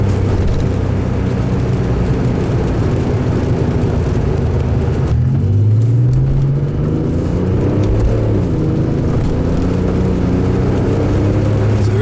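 A 1990 Porsche 911 (964) Carrera 2 Targa Tiptronic accelerates hard above 5000 RPM on a mountain road, its loud, steady engine roar rising in pitch and then shifting partway through, heard from inside the car with no talking.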